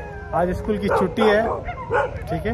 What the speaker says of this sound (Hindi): चारों तरफ से भाई कुत्ते भौंकने लग गए